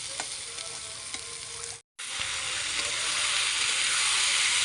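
Fish curry sizzles in a frying pan for a Magh Bihu meal, a steady loud frying hiss that cuts out briefly near the middle and then resumes just as strongly.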